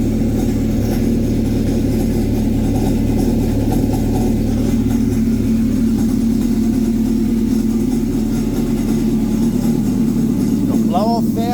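A modified Honda Aquatrax R-12X jet ski engine with max boost and a blow-off valve runs loud and steady at close range, a constant low mechanical drone.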